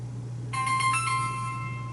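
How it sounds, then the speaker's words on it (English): A telephone rings with a repeating electronic ringtone, steady and fairly loud over a constant low hum, starting a moment in and continuing to the end. "Hold on, we got a phone call here."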